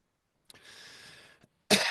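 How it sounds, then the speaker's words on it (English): A man coughs and clears his throat close to the mic in a quiet room, a short hoarse burst followed by a sharper, louder cough at the end. "excuse the coughing here"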